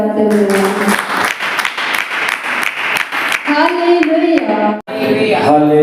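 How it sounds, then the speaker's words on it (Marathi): Loud sustained applause from a church congregation giving thanks, with hand claps filling the space throughout and voices and some singing or speech rising over it in the second half. "तर आपण पण जोराने टाळ्या वाजवून प्रभूला धन्यवाद देऊया."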